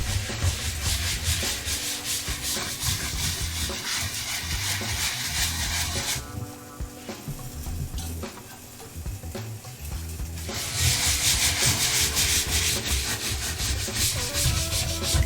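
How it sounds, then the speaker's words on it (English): A soap scrubber works back and forth over a wooden cutting board, producing a dense, continuous rasping scrub that briefly softens midway, then returns louder, up close with no voices. "I keep this as more like my soap applicator. But it does a little scrubbing."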